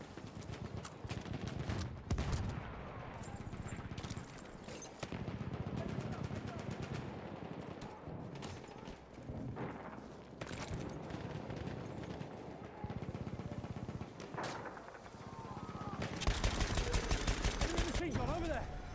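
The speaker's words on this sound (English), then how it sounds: "Enemy machine gun over there." Bursts of enemy machine gun fire rattle through a Battlefield match, rapid repeated shots layered with other battle noise and a voice speaking over the gunfire.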